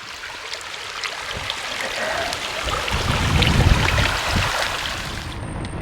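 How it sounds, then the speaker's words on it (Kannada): The Ghataprabha River runs as a clear stream through a field near its source in the Western Ghats at Chaukul, Maharashtra, giving a steady rushing and trickling of water with some low rumbling underneath and no talk. "ಘಟಪ್ರಭಾ ನದಿ ಗದ್ದೆಯಲ್ಲೇ ಹರಿತಾಳೆ ನೋಡಿ"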